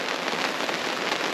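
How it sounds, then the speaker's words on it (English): Steady rain drums on an awning overhead during a torrential downpour, a dense continuous patter of close drops with no voices. "watching the rain"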